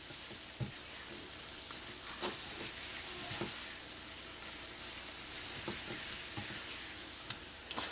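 Dough for Trinidad tuna puffs cooks in a pan, with a steady soft sizzle broken by repeated close scraping and stirring knocks at an irregular pace.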